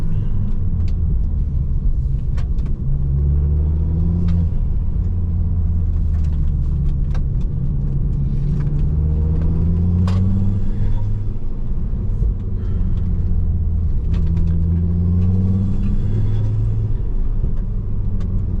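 A car engine pulling hard in third gear up to about 2,500 RPM, a loud, close, low rumble whose pitch climbs and resets in repeated sweeps as it accelerates.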